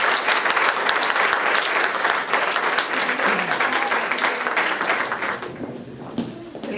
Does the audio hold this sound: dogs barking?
no